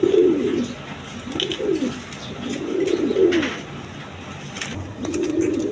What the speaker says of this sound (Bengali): দেখেন বুলু শার্টিংয়ের কি ডাক